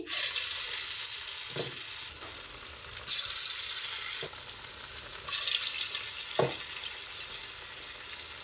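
Steady crackling sizzle of onions frying in hot oil, with occasional soft bumps and clinks, close and continuous, no voices.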